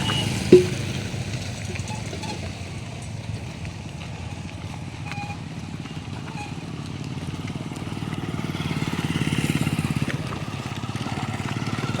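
A motorcycle engine hums steadily at a distance, low and muffled, with a faint rise in loudness toward the end and a brief knock near the start.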